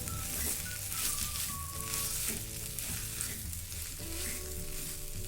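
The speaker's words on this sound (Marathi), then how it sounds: "छान कोरडं होईपर्यंत आपल्याला हे परतून घ्यायचं आहे" A green pea and potato paste being stir-fried in a pan for modak filling, with a steady close sizzle and scraping stirs throughout while music-like tones run underneath.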